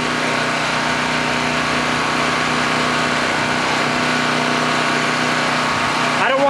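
A small engine idles steadily after startup, warming up with the choke still on, a continuous near drone with a brief shift in tone at the very end.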